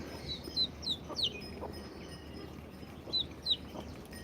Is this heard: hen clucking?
yes